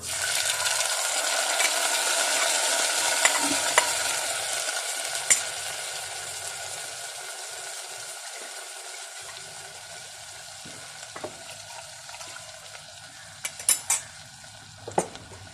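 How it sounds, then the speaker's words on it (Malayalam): Ground masala paste for a Kerala pepper-spiced curry is poured into a hot pan and stirred. There is a loud sizzle at first that fades gradually, then a few sharp utensil clinks near the end. "ശേഷം നമ്മൾ അരച്ചു വെച്ചിരിക്കുന്ന അരപ്പ് അതിലേക്ക് ഒഴിച്ചു കൊടുക്കാം."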